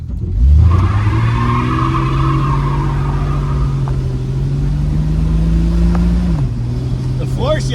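A 1965 Dodge Dart convertible with a 225 Slant Six revs hard for a burnout, a loud sustained engine roar held at high revs with tire noise before dropping off near the end.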